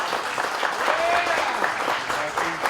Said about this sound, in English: A big round of applause for these boys.